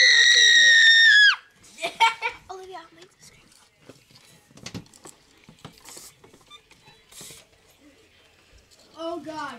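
A child lets out a loud, high sustained scream in play at a slumber party pillow fight, followed by scattered thumps, rustling and a voice talking.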